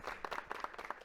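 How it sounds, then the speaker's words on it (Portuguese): Light, sparse clapping from a small audience welcoming a poet as a guest to a podcast, a handful of distinct claps in loose rhythm, fairly faint. "Luísa Romão, salva de palmas para ela, por favor."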